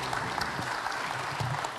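A short burst of applause from an audience, steady and moderately loud, with a faint murmur of voices underneath.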